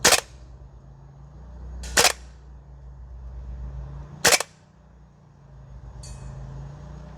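A gas blowback SCAR L airsoft rifle is fired on an outdoor range with low-pressure mags: three sharp single shots spaced about two seconds apart, each a crisp loud crack over a steady low background hum.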